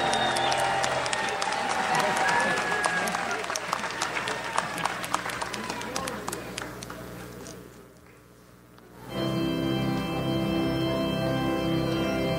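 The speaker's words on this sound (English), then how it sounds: "Big round of applause for you all" Loud, dense applause from a graduation crowd at a 2010 honors convocation fills the first eight seconds, briefly drops away, then a steady hum of room noise and voices follows.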